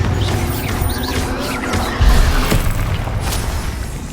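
A Bombarda blasting spell from Hogwarts Legacy erupts in a heavy crash about midway, with a sharp crack shortly after, set against a loud, rumbling game soundscape with scattered clattering debris.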